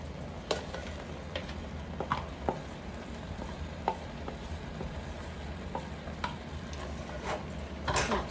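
Chopped onions tumble into a pan and get stirred, with soft scraping and light sizzling under a low steady hum, scattered utensil clicks throughout and a louder clatter near the end.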